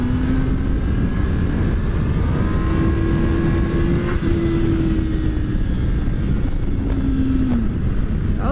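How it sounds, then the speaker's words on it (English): A motorcycle engine revs hard as the clutch is popped for a wheelie. A loud, steady, droning engine note holds throughout with heavy wind rush and no talk. "I'm gonna pop that clutch and I'm gonna stay in the gas to keep the front wheel up."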